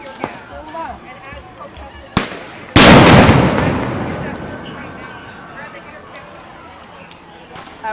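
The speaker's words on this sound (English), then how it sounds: "Barmel, we're hearing fireworks, Barmel, and can see some smoke." Fireworks go off at a street protest in Atlanta: a sharp crack, then a loud, booming burst that rolls and fades over several seconds, with smaller pops around it and voices in the background.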